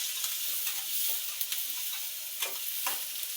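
Chopped onion sautéing in hot oil, a steady broad sizzle with quiet scraping strokes of a stirring spoon at irregular intervals, close and continuous with no talking.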